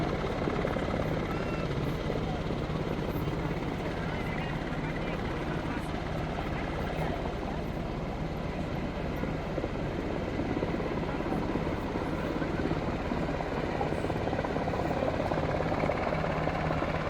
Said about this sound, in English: I don't know where the helicopter went.